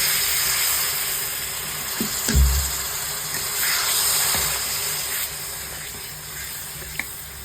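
Water hitting a hot pan of frying spiced potato curry gives a continuous broad hiss. It holds steady throughout, with a few soft clunks and a low thump near the middle.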